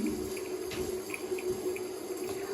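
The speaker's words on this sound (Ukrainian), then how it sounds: "Воду не закриваю, бо вона стає потім холодною і довго гріється" Water runs continuously from a tap into a sink, a steady close hiss and splash with small bright droplet sounds scattered on top, and no talking.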